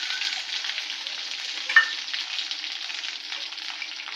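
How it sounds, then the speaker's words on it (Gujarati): Curry leaves and green chillies dropped into hot tempering oil with popped mustard and cumin seeds, a dense continuous crackling sizzle with one sharp pop midway, close and alone. "રાઈ જીરું તતડી ગયા છે, તેમાં નાખીએ લીમડો. લીમડો નાખ્યા પછી મરચાં નાખી દઈએ"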